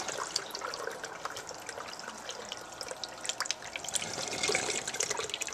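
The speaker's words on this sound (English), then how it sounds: "the water just siphons up over" Water siphoning up through the overflow of a newly set-up reef aquarium, a continuous gurgling, trickling flow with dripping and splashing that swells louder near the end.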